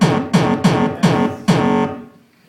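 A heavily distorted 909 kick drum with a buzzy, square-wave-like tone: five loud, harmonically rich hits in a steady uneven pulse, each sustaining before the next, heard alone and fading at the end.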